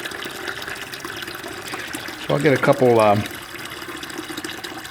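Aquarium tank water flows steadily into a 5-gallon bucket during canister filter cleaning, a soft continuous trickle under a man's nearby speech.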